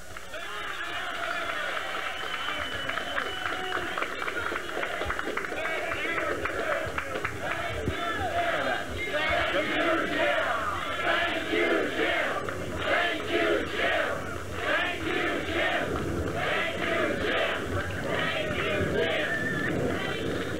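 A large crowd at an anti-Clinton rally during the 1998 impeachment roars, cheers and chants loudly and continuously, a dense wall of overlapping voices close by.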